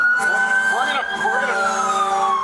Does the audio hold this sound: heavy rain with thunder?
no